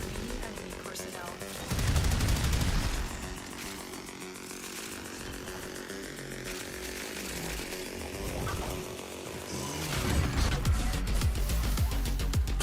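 Rapid automatic gunfire in the sci-fi shooter Warframe, bursts of dense crackling shots that surge loudest near the start and end, layered over game effects and a talking voice.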